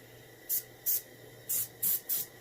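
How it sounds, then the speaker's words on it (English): Short bursts of spray paint hiss onto a reproduction warmouth fish lure, five brief, evenly spaced puffs close by over a faint steady background. "I'm going to spray a little bit to bring out the scales."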